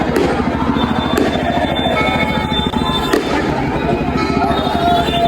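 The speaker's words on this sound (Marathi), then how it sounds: "थडथड फटाके सोडून झाले" Firecrackers burst at a Banjari Mata temple festival, a loud, dense string of rapid cracks and pops running through the whole stretch, with a few sharper bangs and crowd voices in the background.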